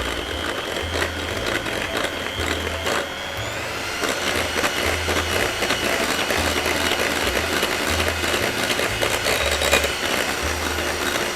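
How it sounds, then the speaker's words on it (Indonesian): An electric hand mixer beats eggs into cookie dough for a double cheese cookie batch, a steady motor whir with a pulsing low drone that runs continuously and loudly throughout. "ini kita kocok dulu"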